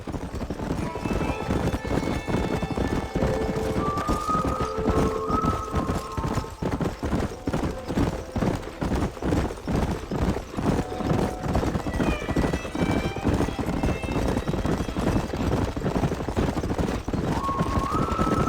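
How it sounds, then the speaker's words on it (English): Steady clip-clop of galloping horses in the video game Red Dead Redemption fills the clip, rhythmic and close, with occasional horse whinnies and music-like tones layered over it. "There's the horses!"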